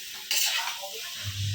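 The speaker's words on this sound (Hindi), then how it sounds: "अभी टमाटर डाल के अच्छे से भुनेंगे" Tomatoes and coriander being stirred and fried in a pan for dhaba-style garlic chicken, a spoon scraping through with a hissing sizzle, close and moderately loud, with a low hum underneath.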